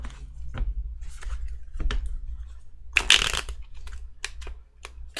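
Overly flexible tarot cards being shuffled by hand, close crisp riffles and flicks in irregular bursts, the loudest ruffle near the middle, with quiet pauses between.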